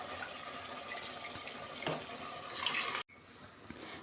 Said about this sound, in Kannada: ಎಷ್ಟು ನೀರು ಬೇಕು ಅಷ್ಟು ನೀರು ಸೇರಿಸ್ಕೊಳ್ಳೋಣ